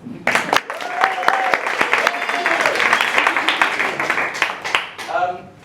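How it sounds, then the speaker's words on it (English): A concert audience gives itself a round of clapping, loud and uneven with sharp individual claps, while a voice speaks briefly over it near the end. "Now give yourselves a clap."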